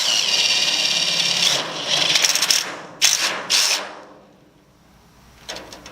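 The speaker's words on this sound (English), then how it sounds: "So I'm going to drill out the hole." A power drill whines steadily for a couple of seconds as it drills out a hole for a 1/4-inch carriage bolt, then stops; a few short bursts and clatter follow before quiet.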